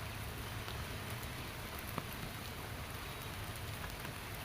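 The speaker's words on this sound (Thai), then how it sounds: "ตอนนี้ฝนก็แรงขึ้นอีกแล้วนะครับตกแรงขึ้นมาเรื่อยๆแล้วนะครับ" Heavy rain pouring steadily during a fishing outing on the Ping River in Thailand, a dense continuous hiss with scattered closer drops, no voices.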